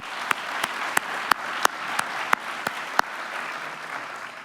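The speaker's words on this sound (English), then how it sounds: "Let's give them another round of applause." Audience applause fills an awards recognition ceremony, a steady wash of many hands clapping with a few sharp, close claps standing out and no talk.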